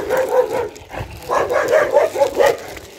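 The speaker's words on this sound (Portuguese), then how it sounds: "Olha lá do outro lado o tanto de cachorro." Several dogs bark repeatedly from across a street, a busy overlapping chorus of mid-pitched barks and yips at moderate distance, with a little whining mixed in.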